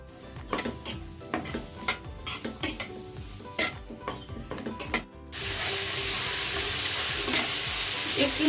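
Diced potatoes dropped into white oil in a pan, first scattered clinks and stirring knocks, then a sudden broad sizzle that swells and holds steadily loud for the last few seconds.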